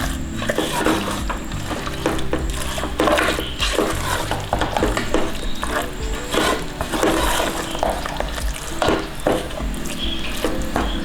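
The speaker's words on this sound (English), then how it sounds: "once the tempering is added, give a quick shot of mix" Mutton sukka is stirred in a pan after the tempering goes in, with a spoon scraping and knocking against the metal over a steady sizzle, loud and close.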